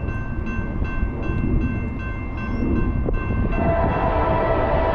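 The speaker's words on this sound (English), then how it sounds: "Train 28N, give us a horn show." A freight train led by rebuilt AC44C6M locomotive #4517 with ET44AC #3625 rumbles loudly past. A steady horn tone seems to sound over the continuous roar of the passing cars, which grows heavier toward the end.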